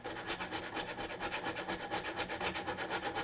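Sandpaper rubbing across guitar frets during fret crowning, a steady rhythmic back-and-forth rasp of even strokes, close and moderately quiet with no talking.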